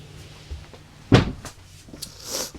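The lid of a storage compartment under the bed in a 2026 Jayco Jay Flight SLX 290RKS travel trailer shuts with one sharp, close thump, followed by a few faint rattles and small knocks.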